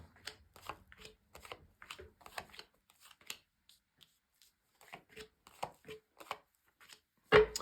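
Repeated crisp papery riffles and taps of tarot cards being shuffled, in short bursts with a brief pause, ending with a louder thump as the deck is set down on a table.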